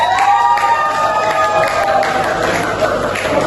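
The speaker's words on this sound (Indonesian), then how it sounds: "Kasih tepuk tangan terlebih dahulu." An audience claps and cheers for a speaker at a free seminar on a chip-snack business. The crowd noise is dense and loud and holds steady throughout, with some voices mixed in.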